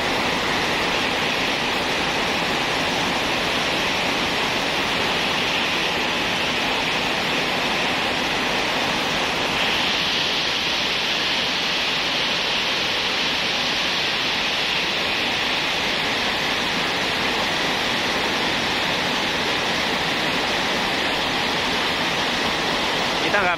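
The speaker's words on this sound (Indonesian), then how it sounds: "Hujannya semakin deras teman-teman, banjir ini di luar." Heavy rain pours down steadily during a flood at an Arjosari flyover in Malang, a dense, unbroken roar of falling water that stays loud and even throughout.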